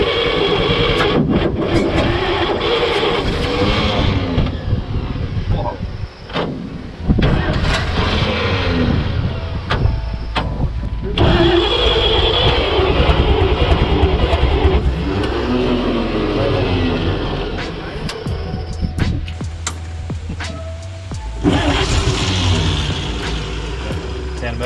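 An abandoned WW2 army truck engine cranks, fires and revs unevenly, its loud, rough roar rising and falling close by, with people talking over it at times.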